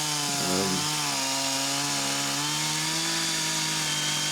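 A chainsaw cuts wood for building a tiny house, its engine buzzing loud and close with a steady pitch and a brief rough bite into the timber near the start.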